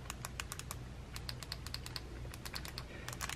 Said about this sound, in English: Here is your 4 programmable buttons, and as you can hear, they're pretty clicky.